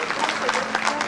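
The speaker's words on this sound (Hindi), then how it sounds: "जोरदार तालियों के साथ स्वागत" Applause from an audience welcoming an honoured guest at a public ceremony, brief and moderately loud, with a voice speaking over it.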